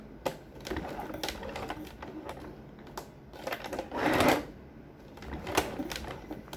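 An industrial sewing machine runs short bursts of tight stitching as a belt holder is sewn onto a pair of trousers, with a louder, denser run near the middle and quieter clatter around it.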